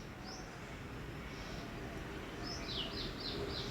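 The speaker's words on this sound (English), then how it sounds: "Just you imagine or listen the birds sounds and cheerings and get relaxed." Small birds chirp and tweet in short, faint high calls, mostly clustered near the end, over a steady, loud, low outdoor rumble.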